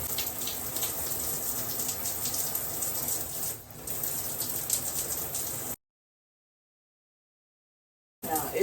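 Water splashes and runs steadily into a bowl at close range, a continuous hissing flow that dips briefly midway, then cuts out to silence before a short burst of water returns at the end.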